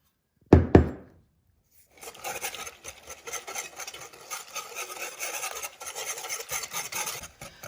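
Coconut custard mixture for a coconut cream pie is stirred to break up lumps, a steady scraping rub of a utensil against the bowl that runs on after two sharp knocks at the start.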